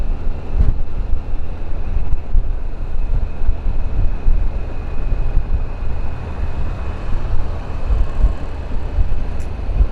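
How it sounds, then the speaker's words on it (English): 2022 Harley-Davidson Pan America motorcycle riding at speed, a loud continuous low rumble of engine and road mixed with heavy wind buffeting on the microphone, steady throughout. "This thing moves pretty good for a big bike"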